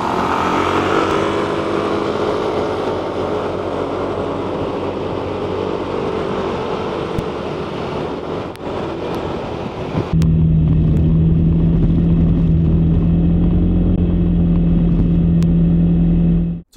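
Engine noise from a hidden microphone mounted at the rear of a motorcycle, a loud steady drone that shifts partway through to a lower, even hum with a strong tonal note.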